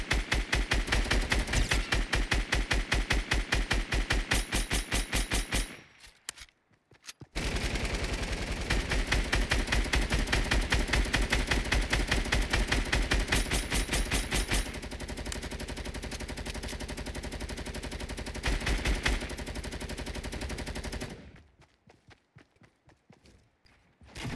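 Rapid automatic gunfire bursts in the mobile game Fortnite Mobile, loud and sustained with rhythmic shot trains, a brief lull near the middle, then more firing before it cuts out near the end.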